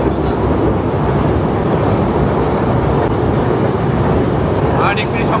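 A train crosses the new Hardinge Bridge in Bangladesh, a steady loud rumble and roar from inside the carriage that holds throughout with no distinct breaks.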